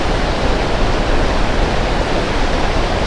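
Water rushes through a full dam on the Yamuna, flowing down from Uttarakhand in Dehradun district, as a steady, loud, close roar with no voices over it.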